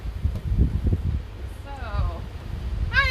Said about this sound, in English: It's a super windy day here